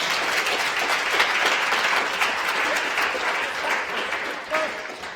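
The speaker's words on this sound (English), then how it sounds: "And another round of applause" An audience at a space-themed event gives a continuous round of applause, thick and steady clapping that eases slightly toward the end.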